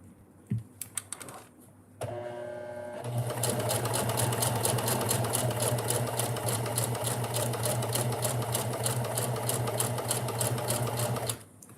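A sewing machine runs at late-night sewing, with a few soft knocks first and then a continuous fast, even stitching hum that runs steadily for several seconds before stopping abruptly.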